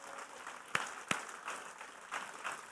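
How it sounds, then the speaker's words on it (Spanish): A church congregation gives brief, fairly quiet applause after an Easter sermon, with two sharp claps standing out early and a soft, thin patter of clapping continuing beneath. "Vamos a darle un aplauso fuerte."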